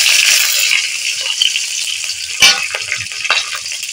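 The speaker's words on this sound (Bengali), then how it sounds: "কাঁচা লঙ্কা দিয়ে দিলাম।" Green chillies hit hot oil already holding bay leaf and panch phoron, setting off a loud, bright sizzle with crackling pops and a few sharp stirring scrapes as it gradually settles.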